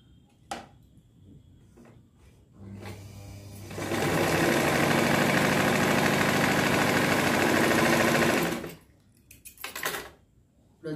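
A sewing machine stitches a blouse in one steady, loud run of about five seconds, with quieter clicks and handling of fabric before and after.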